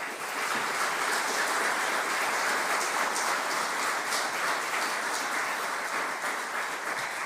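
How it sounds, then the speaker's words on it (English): A large crowd at the 2023 ACT Australian of the Year Awards applauds the nominees in a continuous, even roar of clapping that holds at full strength from start to finish. "Let's give them a really big, suitable round of applause."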